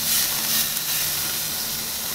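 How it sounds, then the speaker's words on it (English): Steady, loud hissing sizzle of tri-tip steak cooking on a hot grill, continuous throughout with no pauses. "Look at that sizzling."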